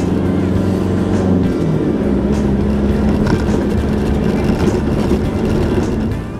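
A 4WD vehicle heads down a mountain spur, its engine giving a loud, steady droning hum with low tonal layers, constant and close throughout with small bumps and rattles.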